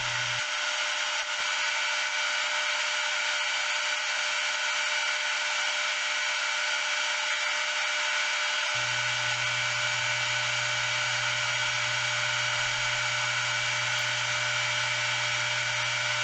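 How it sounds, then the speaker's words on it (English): Sandpaper working a purpleheart and yellowheart bowl spinning on a wood lathe gives a steady, close whirring hum with a soft abrasive hiss, unbroken for the whole stretch and with no talking. "I used denatured alcohol to raise the grain and then sand it back down with the same grit"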